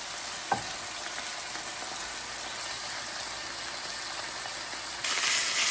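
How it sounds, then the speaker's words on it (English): Steak sears in a hot pan with butter, giving a steady, dense sizzle that holds even throughout and swells louder near the end, with no voices over it. "So we've got a good sear on that side"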